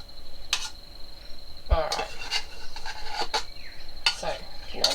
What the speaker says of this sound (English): you use a knife and scrape as much out as you can